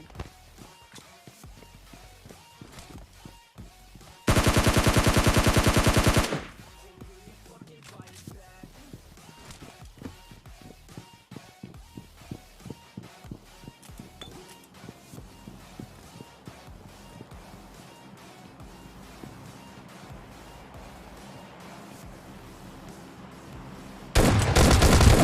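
Tommy gun fire in PUBG Mobile Lite gameplay crackles as a string of rapid shots, with two loud, sustained bursts of automatic fire standing out, one early and one at the very end.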